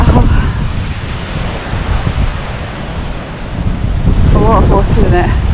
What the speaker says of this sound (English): The waterfall ahead.